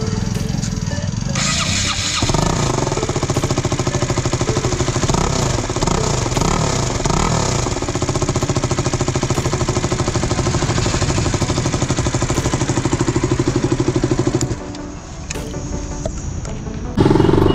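KTM RC motorcycle with a newly fitted piston block, started up and held at a steady loud idle with repeated revs throughout, close by, the engine cutting out near the end before running again.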